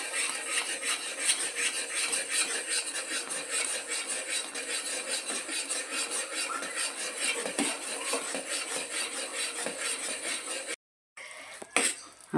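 Sesame chikki sugar syrup being stirred in a pan, a steady scraping and clinking of a spoon against metal that runs continuously up close, then stops briefly near the end before a few more scrapes.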